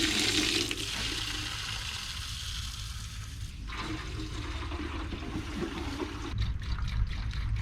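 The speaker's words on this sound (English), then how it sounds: "Oh, I hate getting rained on." Steady rain pours down outdoors beside an old 1977 Chevrolet 4x4 truck, a dense continuous wash of falling water that stays loud and unbroken throughout.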